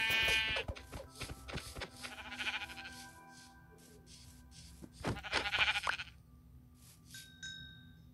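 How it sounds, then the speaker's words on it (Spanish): Sheep bleat repeatedly in a Minecraft-style survival game, several sharp nearby cries in two clusters separated by a quieter stretch, with faint game sounds between them and no speech. "Oh, hay ovejas aquí."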